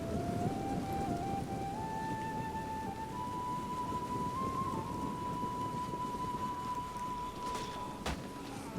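Rain falls during a Total War: Rome II battle as a steady, dense hiss that lasts throughout. A thin sustained tone drifts slowly upward above it.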